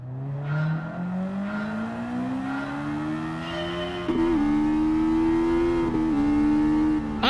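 A race car fitted with a semi-racing exhaust in Gran Turismo 7 revs and accelerates through gears, its engine note climbing steadily with brief dips at each shift, loud and close with no talking.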